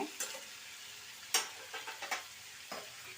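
Potatoes for aloo dum turned over in a frying pan, a soft steady sizzle broken by a handful of short scraping stirs of the spatula, close and fairly quiet, no talking.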